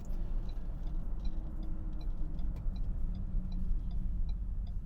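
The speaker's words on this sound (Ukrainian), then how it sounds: "Зараз будемо гальмувати." Inside a 2020 Ford Edge ST slowing under braking from 60 km/h, a steady low road and engine rumble with tyre hiss continues throughout, without any voices.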